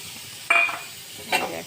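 Food hits a hot, oil-free wok with two short sharp sizzles and a bit of stirring, close and fairly loud against a quiet background.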